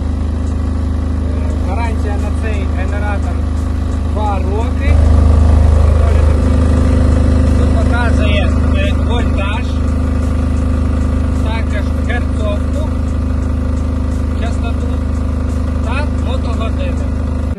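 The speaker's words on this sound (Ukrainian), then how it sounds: "Як ви бачите, генератор доволі таки тихо і працює" A Matari diesel generator runs with a steady, low, even engine hum that stays constant throughout while a person talks over it nearby.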